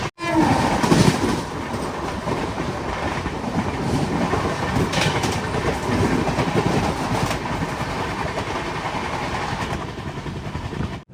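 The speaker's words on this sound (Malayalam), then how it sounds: "റേണിഗുണ്ട റെയിൽവേ സ്റ്റേഷനിലേക്ക് ഇതാ നമ്മുടെ ട്രെയിൻ എത്തിക്കൊണ്ടിരിക്കുകയാണ്." Kerala Express train pulling into Renigunta railway station, a continuous loud rumble of wagons with steady clickety-clack and a horn sounding near the start, close by and without talk.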